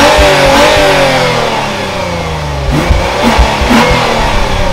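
A powerful naturally aspirated V8 engine in a 2023 Lexus IS 350 F Sport revs hard and loud, with rising and falling harmonic sweeps and sharp throttle blips near the end, no voices.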